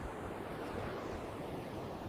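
Steady surf and wind at a beach, a dense, even wash of waves with rumbling wind noise on the microphone, constant and fairly faint.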